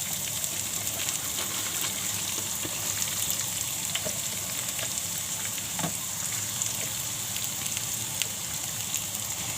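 Cumin, garlic and onion frying in hot oil in a pan for a raw banana vegetable dish, giving a steady close hiss and sizzle with a few small pops and crackles, no talking.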